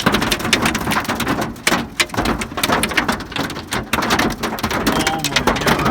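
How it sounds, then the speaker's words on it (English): Heavy hailstorm with large ice stones pelting surfaces, a dense, loud, continuous clatter of sharp impacts and pouring water throughout, close by. "we're getting nailed by a hailstorm right now"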